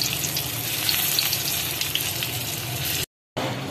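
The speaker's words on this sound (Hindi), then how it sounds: "इसी तरह से अब हम सारे जो है फ्राई कर लेंगे, बाकियों को भी हम इस तरह से सारे फ्राई कर लेंगे।" Potato shami kababs fry in a pan with oil, a loud, dense sizzle with bubbling crackle running continuously, broken by a brief moment of silence near the end before the sizzle resumes; no talking.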